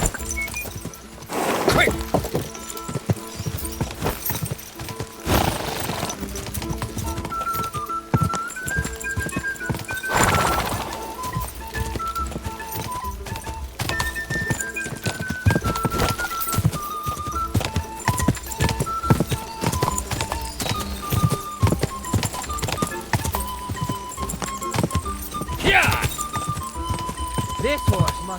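Hooves clip-clop in a fast rhythm as a horse gallops in a race in Kingdom Come Deliverance 2, with neighs and whinnies, game music and a short shouted word over the top.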